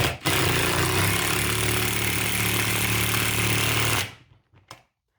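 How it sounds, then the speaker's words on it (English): Impact driver driving lag bolts into a garage ceiling to mount overhead storage brackets: one loud, continuous hammering buzz for about four seconds, close by, then stopping abruptly into near silence with a few faint knocks. "I recommend an impact driver for these lag bolts."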